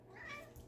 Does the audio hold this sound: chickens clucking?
no